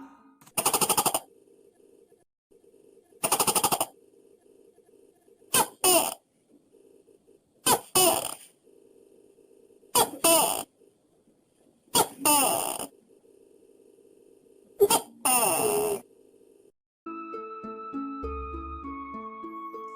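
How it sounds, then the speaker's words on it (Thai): A tokay gecko's loud, abrupt croaking calls repeat roughly every two seconds, about eight in all, over a steady low hum, then a short musical jingle plays. "ตุ๊กแกนั่นเองอ่าน่ากลัวใช่ไหมล่ะ"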